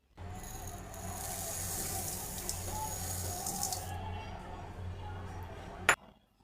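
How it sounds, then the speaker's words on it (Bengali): Rice and lentils are washed in water in a cooking pot for vegetable khichuri, with swishing water, light rattling and clinking of grains and utensils, ending in one sharp clink. "প্রথমে চাল আর ডাল ভালোভাবে ধুয়ে নিব।"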